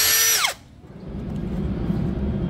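A cordless brushless impact drill boring into wood with a 10 mm auger bit whines at high pitch for a moment, then winds down abruptly, leaving a low, steady rumble.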